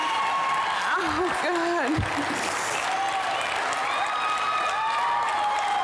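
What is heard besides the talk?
crowd applauding someone with a standing ovation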